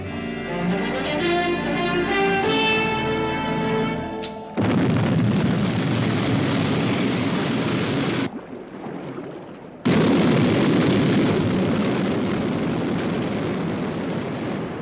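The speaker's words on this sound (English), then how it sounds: "Stand by for liftoff." The Sky 1 aircraft from the UFO TV series lifts off with a loud rising, whining tone that gives way to a heavy roaring rush. The roar cuts out briefly, then surges back at full strength.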